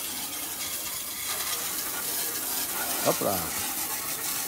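Water from a light rinse splashes and runs steadily across a roof during roof cleaning, a continuous hiss. Someone speaks briefly near the end.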